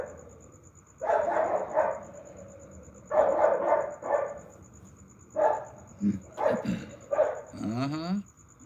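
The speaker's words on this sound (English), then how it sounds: "Oh, this dog's going crazy over here." A dog barks in short, excited bursts across several seconds, with growling and whimpering between them, fairly close and loud over a faint steady high background tone.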